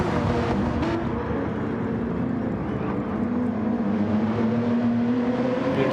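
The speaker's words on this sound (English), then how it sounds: "Porsche versus Toyota" Porsche and Toyota race cars lapping the Red Bull Ring in a Toyota GR Cup round: a continuous, even engine drone that holds steady, with the pitch gently shifting as the cars run close together.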